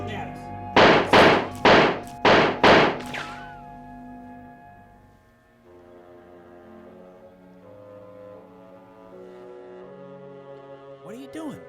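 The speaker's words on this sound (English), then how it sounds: "If my ear don't fail me, that's the sound of a six-shooter." Revolver shots, four sharp loud blasts in quick succession ringing out near at hand, followed by a lingering low hum and room tone, with a faint clatter at the end.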